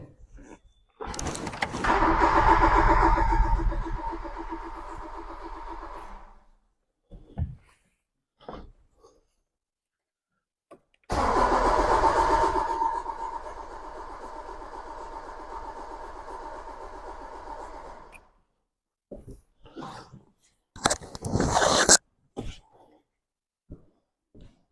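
Talbot Samba GLS engine cranking but failing to start: two long whirring bursts from the starter, each lasting several seconds, with short knocks and clicks between them and a sharp final burst near the end, heard up close.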